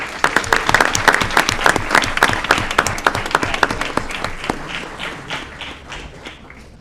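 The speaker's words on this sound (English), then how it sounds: "Can we give them a round of applause, please?" Applause from the audience at a city committee meeting, many hands clapping briskly and loudly at first, then thinning into scattered, softer claps that fade toward the end, with a few footsteps and light thumps among them.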